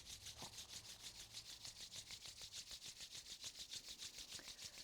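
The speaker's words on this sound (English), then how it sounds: "Now let's bring our hands together and rub them vigorously." Hands rub together vigorously in a fast, even back-and-forth rhythm, each stroke a soft brushing swish. The sound is faint and close, with no voices.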